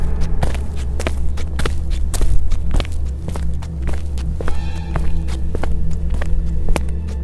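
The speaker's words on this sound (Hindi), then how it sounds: "विराट को ऐसी आवाज़ आती है कि मानो उसके हॉलवे में कोई चल रहा हो।" Footsteps walk through a house hallway around one at night, a series of sharp, fairly close steps in a steady rhythm over a constant low hum. Faint tonal sounds briefly surface partway through.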